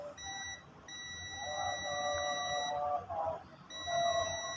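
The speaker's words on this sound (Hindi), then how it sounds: "ये बज़र जो है ना वो इसकी हमने लगा के चेक किया है, तो ये यहाँ पे हमें बीप देगा।" A UNI-T UT33C+ digital multimeter's continuity buzzer sounding during a wire check, a steady high electronic tone held for a few seconds, broken by two short gaps, with faint background noise.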